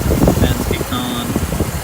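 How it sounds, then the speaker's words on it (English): Radiator cooling fans on a 2008 Cadillac STS with the 4.6L V8 run steadily after a test drive, making a loud, close, continuous whirring rush with a few faint higher tones on top. "Fans kicked on."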